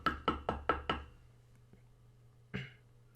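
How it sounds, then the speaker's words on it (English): A hand knocking on a house door: a quick run of five sharp knocks, a short pause, then a single louder knock, close and clear with no talk over it. "He knocks on the door."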